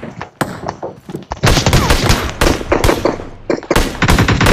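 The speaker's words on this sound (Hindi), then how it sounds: "शॉट गन से उसको पिस्टल से उड़ा दी कितनी दूर से" Rapid bursts of gunfire from the battle-royale video game PUBG Mobile, with loud repeated shots and fast automatic volleys crowding one another, no speech.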